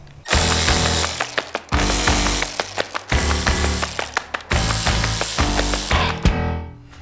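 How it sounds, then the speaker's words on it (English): A hand ratchet with a 7mm socket backs out fuse box cover bolts on a Jeep JL Wrangler, loud rapid clicking in several bursts separated by short pauses, ending with a brief quiet tail. "these 4 bolts right here will need to come off using a"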